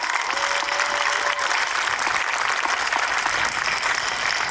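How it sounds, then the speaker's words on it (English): An outdoor crowd at the grand re-opening of Finlay Park in Columbia gives a sustained round of applause, a dense, even wash of many hands clapping at once that stays loud and steady throughout. "Please give a round of applause again for that hard work."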